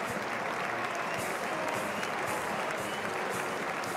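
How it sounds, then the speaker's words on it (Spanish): A bullfight crowd gives a matador a sustained ovation, the dense, loud applause rolling on evenly throughout. "Ovación para Sebastián Castella,"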